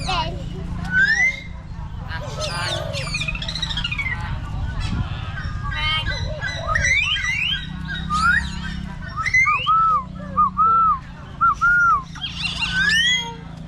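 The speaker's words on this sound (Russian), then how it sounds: "Здесь есть несколько вольеров с птицами." Many birds call at once, honking, squawking and whistling in varied rising notes, with people chatting nearby throughout.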